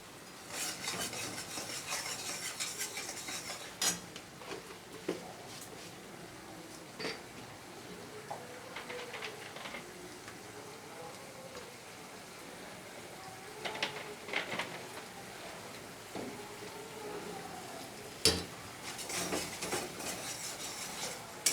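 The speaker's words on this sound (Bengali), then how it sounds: "সর্ষে পোস্ত বেশি ভাজতে নেই তো তাই আমি এবার তেল ছেড়ে দিয়েছি পোস্তর থেকে" Mustard-poppy paste is stirred in a pan with oil for a Bengali pabda fish dish, a steady rasping scrape of a spatula with occasional sharper clinks against the pan, moderately faint and continuous.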